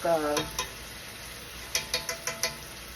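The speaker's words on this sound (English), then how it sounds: "I still want it to cook some in the skillet to get a little char on it." Pot roast searing in a skillet for a little char, with a faint steady sizzle under a few soft utensil scrapes and clicks, a short louder burst near the start and a run of light taps toward the end.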